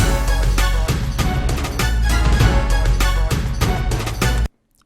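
Dense electronic drum beat programmed in DUBturbo beat-making software, with heavy kicks, snares and layered synth hits in a steady loud loop that cuts off abruptly near the end.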